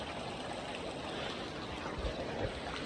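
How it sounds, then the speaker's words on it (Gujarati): Heavy monsoon rain falls over farmland, a soft steady wash of hiss, fairly faint and continuous, with no voices. "અને વરસાદ આજ છે ને થોડોક વધારે છે."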